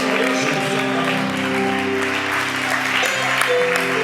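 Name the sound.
congregation applauding welcomed guests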